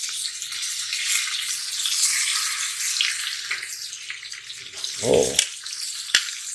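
Chicken thighs sear in a Ninja Foodi SmartLid with a continuous bright sizzle and crackle, close and steady, broken by a few brief handling knocks and a short exclamation near the end.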